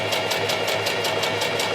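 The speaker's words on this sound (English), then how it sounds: "Now I'm sewing in my couple of darts." Sewing machine stitching darts into a paper-pattern garment, a fast, even mechanical chatter of needle strokes repeating about five times a second, close and alone.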